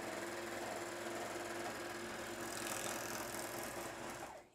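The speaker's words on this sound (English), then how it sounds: "I like to make projects like that just on a serger." A JUKI MO-1000 serger stitches through fleece in one steady, continuous mechanical whir that runs close and loud with no pauses, winding down abruptly at the end.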